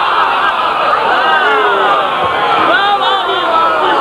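A large audience at a religious gathering chants slogans in unison during a sermon, a loud, dense wall of massed voices rising and surging continuously throughout.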